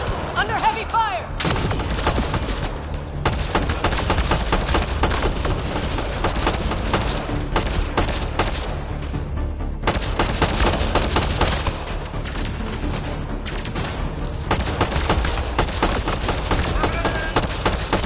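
Heavy gunfire fills a Mass Effect Andromeda firefight, dense overlapping shots and bursts crackling continuously at close range, with voices shouting at times beneath the barrage.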